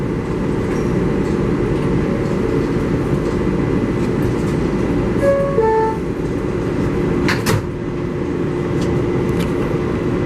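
A New York subway 7 local train bound for Flushing–Main Street runs with a steady, loud rumble of wheels and car noise, a brief squeal or tone midway and a sharp clank near the end.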